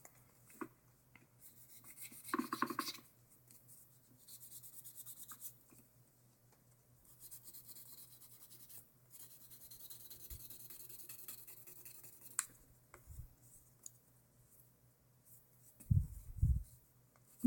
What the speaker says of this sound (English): Buffing up your side walls.